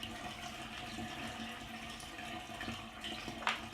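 Film negatives being moved through a final rinse bath give a soft, steady watery wash, faint and continuous, with a small splash near the end.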